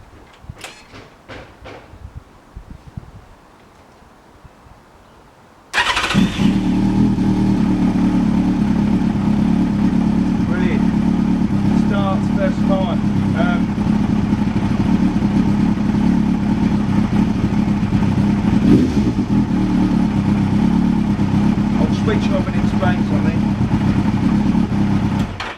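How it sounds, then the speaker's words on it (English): A Yamaha FZS1000 Fazer motorcycle with a repaired wiring fault cranks and fires up after a few quiet handling noises, then settles into a loud, steady idle with light revs, heard up close. "we now need to see whether my theory works and the bike starts"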